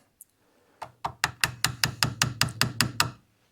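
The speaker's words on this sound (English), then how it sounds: "with the soft blow hammer and a brass punch, I'm just going to tighten that bad boy up" Soft blow hammer striking a brass punch to tighten a seal on a shredder, about a dozen sharp metallic taps in an even, speeding rhythm, close and clear with no talking.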